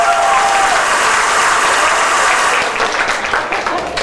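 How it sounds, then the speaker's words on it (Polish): Wedding guests at a reception burst into loud, sustained applause, a dense close wall of clapping that thins slightly toward the end. "ten chłop jest tak oklaskiwany"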